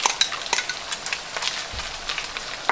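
Bacon and bell pepper frying in a pan for tacos, a steady loud sizzle with utensil scrapes and stirring clatters scattered through it.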